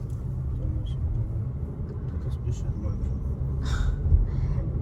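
Inside a moving car on a road, a steady low engine and road rumble continues throughout, with a passenger's speech faintly under it.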